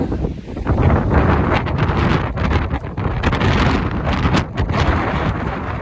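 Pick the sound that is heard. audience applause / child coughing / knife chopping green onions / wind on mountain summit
wind on mountain summit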